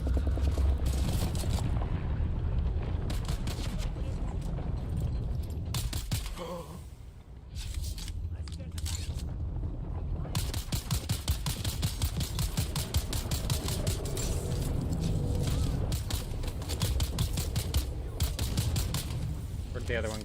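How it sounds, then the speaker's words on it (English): Sustained rapid gunfire in the video game Dune Awakening, dense automatic bursts that run almost continuously and pause briefly in the middle, loud and close, with a player speaking over the shooting. "What's shooting me?"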